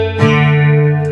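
An acoustic guitar strum across the top three strings, playing a song, rings out as one sustained, full chord that holds steadily, close and alone.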